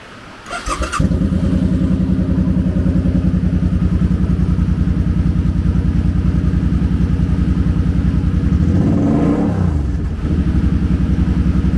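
A 2011 Suzuki Boulevard C50T 800 Tourer with its 805cc V-twin starts after a brief crank, then settles into a loud, steady, throbbing idle with a slight rev near the end, heard close up and alone.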